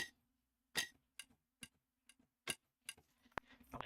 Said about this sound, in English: I got to do some ticking stuff for library. We'll call this TikTok. Zenith TikToks.